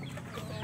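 Roosters on a backyard poultry farm cluck in a short, close burst, a busy rough texture of fowl calls with no talking over it.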